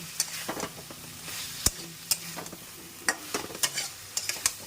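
Potatoes are stir-fried for aloo posto, a soft frying sizzle broken by repeated clinks and scrapes of a spatula against the pan, close and moderately loud.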